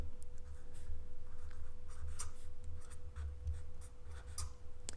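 A lesson title is handwritten for a 3rd-grade English class, giving soft, scratchy strokes with short pauses between words over a low, steady room hum.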